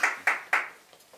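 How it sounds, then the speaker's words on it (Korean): A few sharp hand claps at a Christmas charity scholarship event, three distinct close claps in quick succession followed by fainter scattered ones fading out in a quiet room. "박수 부탁드립니다"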